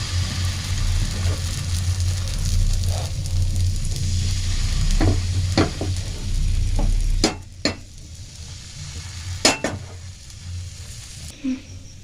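Patishapta crepe batter cooking in a hot pan with a steady, loud sizzle and low hum, broken by a few sharp clicks and taps of a utensil, with the frying quieting toward the end.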